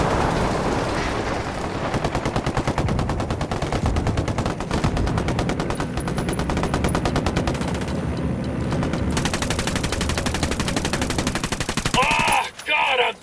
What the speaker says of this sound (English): How much mortar fire did you call for?